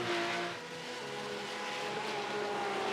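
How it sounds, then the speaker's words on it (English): A Porsche flat-six racing engine screams at high revs close by in a Nürburgring sim race, a harsh continuous roar with a rising whine, loud and sustained without pause. "the gorgeous, sonorous sounds in the forest of the flat 6 Porsche engine being tortured by Gladys Veed and Martin Asher"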